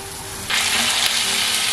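Chive and shrimp fritters hit a hot pan and break into a bright, steady sizzle that starts suddenly and keeps crackling close up.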